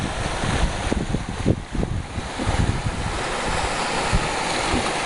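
A gusting wind storm roars steadily across the microphone at an outdoor gold-sluicing site, with intermittent bumps and rushing buffets swelling and easing throughout; no talking.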